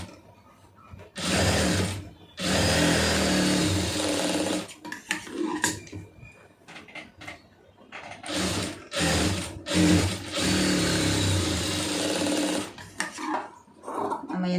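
A sewing machine stitching a poonam saree runs in several loud, close bursts of rapid mechanical whirring, broken by short pauses and small clicks between seams.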